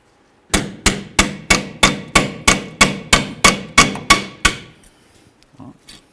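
Hammer knocking brake pads out of a caliper on a Chevy S-10, a run of about thirteen loud, evenly spaced metallic blows roughly three per second, followed by a few faint clinks.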